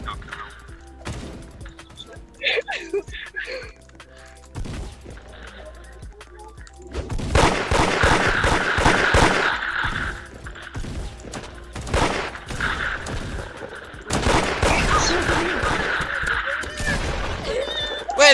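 Rapid shotgun blasts and bursts of gunfire in the Roblox game Da Hood, with crashing impacts, while players shout excitedly over the action.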